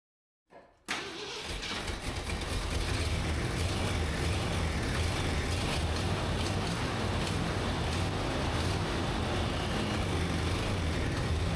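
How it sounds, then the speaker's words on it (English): A truck engine starts abruptly from silence and settles into a steady, loud idle or low run that stays close and constant throughout, with no talk over it. "try to back the truck up and make sure that the front brakes are going to work"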